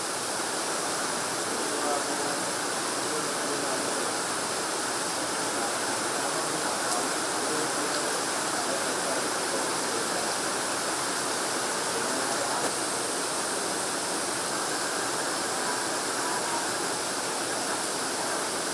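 The Aruvikkuzhi waterfall roars in a steady, dense rush of falling water, loud and unbroken throughout with no pauses.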